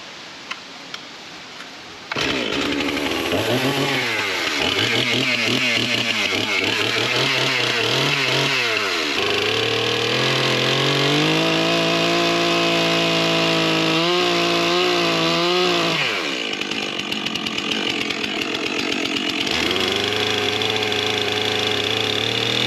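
A chainsaw mill cutting lengthwise through wood: the engine starts up, idles, then revs hard and holds at full throttle, with the pitch wavering and dipping as the chain bites into the log. It sounds loud and close.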